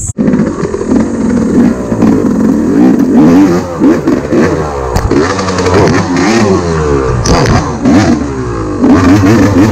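A dirt bike engine revs loudly and close by on an enduro trail in Kabayunan, Bulacan, its pitch climbing and dropping in repeated bursts that run steadily throughout.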